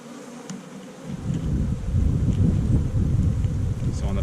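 Honey bees swarm around an open hive with not all ten frames in place, a dense, continuous low buzzing that swells after the first second and stays steady and close.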